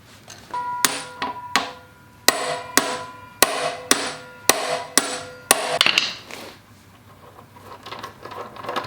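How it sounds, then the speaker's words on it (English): A hammer strikes a small impact screwdriver fitted with adapters, working on stuck fender bolts of a custom Honda Grom motorcycle: about ten sharp metallic clanks with ringing tails at irregular intervals, followed by quieter fumbling noises. "So I've got the little impact screwdriver out with a bunch of adapters on it."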